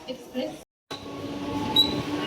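Low rumbling hum of a Virar-bound suburban local train in motion after leaving Dadar station, Mumbai, heard from inside, with a brief silent break partway through.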